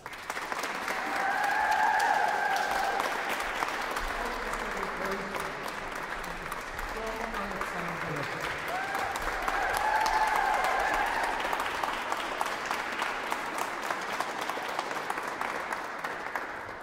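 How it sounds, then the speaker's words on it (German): A concert audience at a youth choir festival gives sustained, loud applause to four choir conductors, with dense, continuous clapping that swells and eases over about seventeen seconds. "wir geben diesen vier tollen Leitern einen tollen Applaus"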